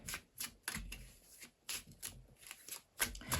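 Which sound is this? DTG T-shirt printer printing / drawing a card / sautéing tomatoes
drawing a card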